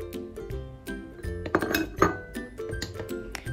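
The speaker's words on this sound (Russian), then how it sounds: "Хорошо все перемешиваю ложкой" A spoon clinks and scrapes against a bowl in quick, irregular strokes, close up, as thick apple cookie dough is stirred.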